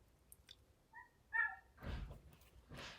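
A dog indoors gives a couple of short high yips and barks, followed by rustling and soft handling noises, fairly quiet and close with no talking.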